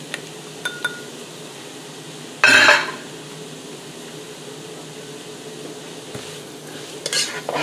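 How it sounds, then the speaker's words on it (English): Seasonings being stirred in a pot of collard greens give a low simmering sizzle, with scattered metal clinks and a brief louder scraping burst from the spoon against the pot. "And then you're going to stir it around."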